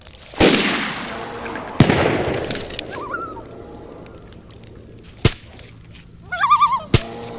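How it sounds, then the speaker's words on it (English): Gunshots in the DayZ video game: a few loud, isolated cracks spaced seconds apart, with a bird calling in the quieter gaps. "Somebody shooting at him already"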